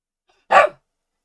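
A dog named Rowan gives a single short, sharp bark, close and loud, with silence before and after.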